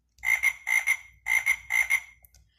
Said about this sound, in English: Every species of frog makes different sound.